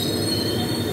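A Kertanegara passenger train with mild steel carriages rolls past, its wheels squealing steadily over a dense, continuous rumble of rail traffic close by.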